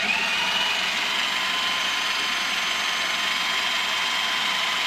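A blender whizzing dessert ingredients for an elevated peanut butter and jelly treat: a loud, steady high-pitched motor roar that runs unbroken from start to finish.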